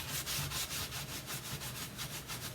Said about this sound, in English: make sure you use those even forces when you're using your Brillo pad